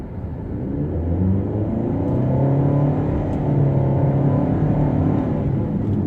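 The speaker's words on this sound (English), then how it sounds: "It does get a little bit loud if you plant it, which I shall do now" A Renault Koleos 4WD SUV strains under hard acceleration, a loud steady droning roar with a rising CVT whine that holds at high revs for several seconds.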